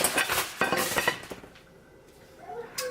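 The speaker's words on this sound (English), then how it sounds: "I'm about to mix the rice now." A spoon scrapes and clinks against a pot while white rice cooking for Spanish rice and beans is stirred, several quick close knocks and scrapes before it goes quiet.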